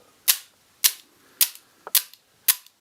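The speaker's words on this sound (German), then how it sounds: "Teilweise auch einfach nur auf irgendwelchen Dingern rumgeklopft." Five sharp, bright knocks on assorted objects played as studio percussion, evenly spaced about half a second apart, each a crisp dry crack with quick decay, close and alone.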